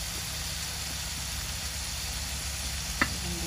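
Dal with tomato sizzles steadily in a pan as it is stirred, a constant close hiss with a single light utensil clink near the end.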